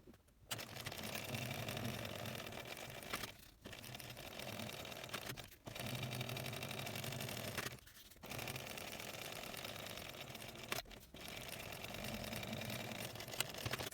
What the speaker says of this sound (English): top stitch this edge with an 1/8 of an inch seam allowance